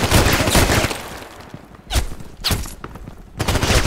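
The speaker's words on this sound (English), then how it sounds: "I show you one more time with the shooting with the iron sight." Colt Python Elite revolver firing in the shooter game Contract Wars: several loud, sharp shots spaced irregularly, each a broadband crack with a brief decay, close up and alone.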